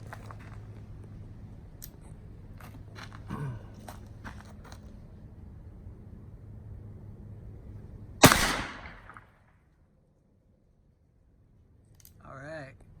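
A single loud, sharp gunshot from a Cimarron Walker revolver loaded with Pyrodex black powder rounds, fired on an outdoor range, with a brief ringing decay and quiet handling noises before and after.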